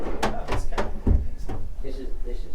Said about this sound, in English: Lovely pop-out drawers.